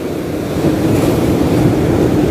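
Surf rolling onto the sandy shore at Cemara Sewu beach, a dense low roar with wind buffeting the microphone, steady and loud for the whole stretch, no voices.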